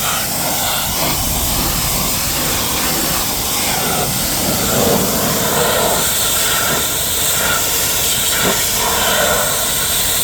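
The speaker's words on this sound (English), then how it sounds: "We'll hose it off here and see what this looks like." Steady broadband spray of a water hose rinsing foaming cleaner off aluminum parts of a 1987 Honda TRX250R ATV, continuous and close for the whole stretch with no talk.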